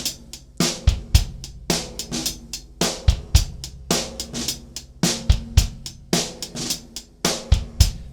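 A drum kit plays a steady groove of kick, snare and hi-hat, with short buzzed snare strokes choked off before beat 3, repeating about every 1.1 seconds; close, punchy and without voices.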